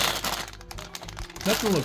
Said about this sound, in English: looks like everything comes in one little plastic bag